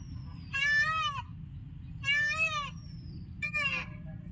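A peacock at Mukutmanipur calls in reply, three loud, separate, wailing cries spaced a second or so apart over a low rumbling background.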